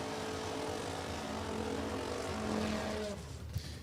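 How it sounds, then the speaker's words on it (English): An F Dragster with a 193 cubic inch 4-cylinder engine and air-shifted manual transmission races at a drag strip, its loud, high-revving engine drone rising steadily in pitch before cutting off abruptly near the end. "This is an F Dragster, a 193 cubic inch 4-cylinder engine with an air-shifted manual transmission behind it."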